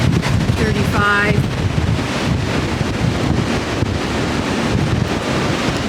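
Strong wind gusting at 30 to 35 mph roars steadily and loudly across an open yard, buffeting the microphone with constant rumbling noise from start to finish, with no talk.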